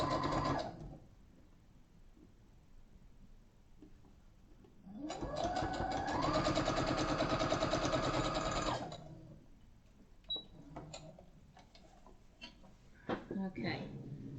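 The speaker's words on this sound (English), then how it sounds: "Sewing machines don't really like sewing just 2 pieces of fabric together" A sewing machine stitches two fabric pieces together in one steady, close whirring run of a few seconds, with quieter handling clicks and faint talk around it.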